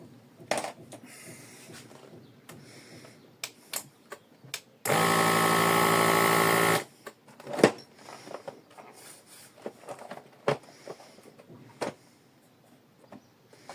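A kitchen plastic bag sealer, just repaired, gives one loud steady buzz lasting about two seconds, with scattered clicks, taps and handling knocks before and after.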